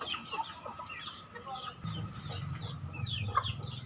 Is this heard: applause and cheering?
no